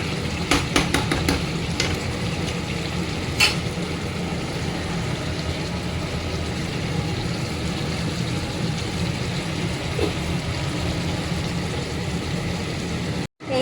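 Red chicken curry sautéing in oil in a pan, with a steady low bubbling sizzle and a few sharp metallic scrapes and clinks of a spoon early on, no talk.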